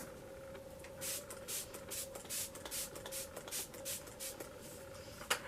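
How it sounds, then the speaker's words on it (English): A rapid series of short bursts of MAC Fix Plus setting spray misted onto a face, about a dozen soft hissing mists in quick rhythm, close by over a faint steady hum. "grab my MAC Fix Plus and just spray down my entire face"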